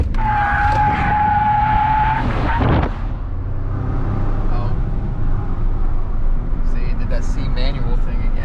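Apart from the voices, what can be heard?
Ford F150 truck engine revving on the brake, building boost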